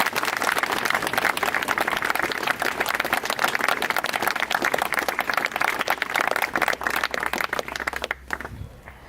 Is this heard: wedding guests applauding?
yes